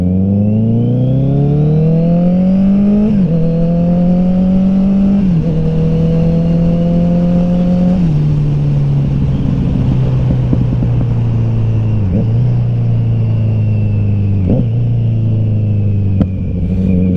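A 2020 Kawasaki Z900 motorcycle revs loud and close while riding, its engine note climbing through short gears with quick upshifts and dips in pitch, a strong continuous roar.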